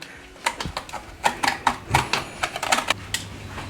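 Scissors snip through lasagna pasta sheets in a kitchen, giving a close series of short, crisp clicks and snaps at an uneven, quick pace.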